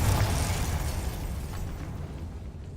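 Confringo spell blast in Hogwarts Legacy, a heavy rumbling explosion that hits at the start and slowly decays over a few seconds, loud and booming in the low end.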